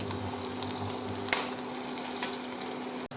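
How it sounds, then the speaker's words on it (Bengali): Onion, tomato and green chili fry in oil in a pan, a steady close sizzle with a couple of brief stirring scrapes and no talk. "এগুলো একটু ভাজা হোক।"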